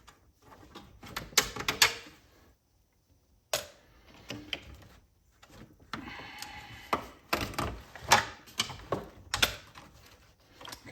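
A socket wrench ratchets on a small nut during an arcade machine restoration, making close bursts of quick clicking separated by pauses.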